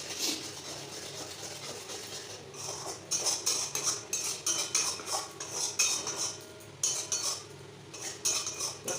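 A spoon stirs spice masala with a splash of water in a pan over high heat for aloo dum, producing rapid rhythmic metallic scrapes and clinks up close.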